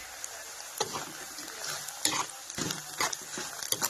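Sabudana khichdi frying in a pan is stirred, a soft sizzle under several scraping, clattering spoon strokes against the pan, close and fairly quiet, with no voices.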